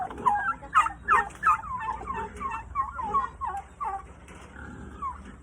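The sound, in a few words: turkeys gobbling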